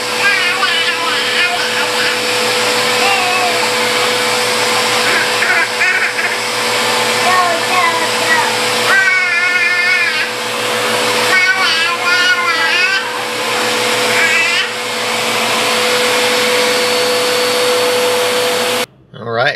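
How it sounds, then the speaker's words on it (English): Vacuum cleaner running loudly and close, a steady whining drone throughout, with a person speaking over it partway through. "Are you vacuuming?"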